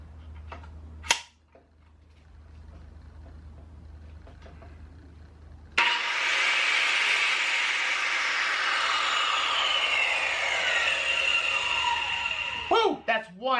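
A Makita dustless tile cutter's motor switches on abruptly and runs loud and steady at high speed for several seconds, its pitch sliding slightly, after a quiet stretch with a sharp click near the start.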